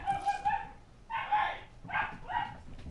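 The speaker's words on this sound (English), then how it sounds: "That dog never shuts up." A dog barks three times in quick succession, loud and close, with short yelping notes and no voices around it.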